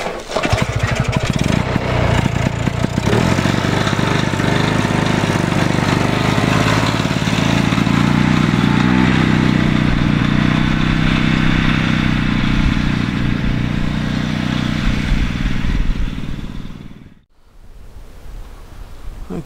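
A 12 horsepower snowmobile engine runs loud and steady in the snow, a continuous close droning roar that holds for about sixteen seconds before cutting off abruptly.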